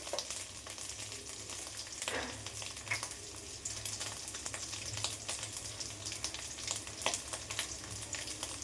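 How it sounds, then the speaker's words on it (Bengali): Ginger and vegetables (potato, carrot, papaya, beans) fry in a pan for a chicken stew, giving a soft, steady sizzle with scattered spattering pops, quiet and close. "আদা দিয়েছি, একটুখানি ছিটকাচ্ছে"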